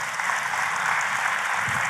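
Church congregation applauding during a sermon, an even, continuous patter of many hands clapping at moderate distance.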